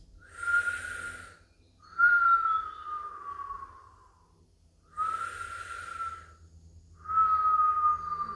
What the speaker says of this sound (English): you're going to do a slow whistle breath in and out like this